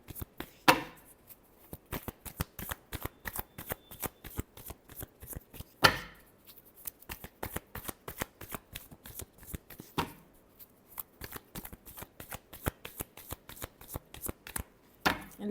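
Tarot cards being shuffled by hand, a long run of rapid crisp riffling flicks in bursts with short pauses between, close and soft, no talk.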